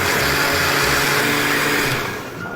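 A blender whirs steadily, mixing coconut cake batter with milk and grated coconut, loud and continuous before easing off near the end.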